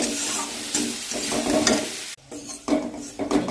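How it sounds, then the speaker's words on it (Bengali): Potato pieces fry in oil with turmeric powder and a little salt, sizzling loudly while a utensil scrapes and stirs them in bursts, with a brief quiet gap midway. "আলুগুলো ভেজে নেব, দিয়ে দেবো হলুদ গুঁড়ো, নুন অল্প লাগিয়ে দেবো।"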